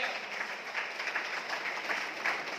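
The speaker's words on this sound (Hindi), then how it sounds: "मुझे खटखटाहट वाली तालियां चाहिए, मजबूत वाली तालियां" An audience at a rice bran oil company event applauds, a dense, even wash of clapping that stays steady for the whole short stretch.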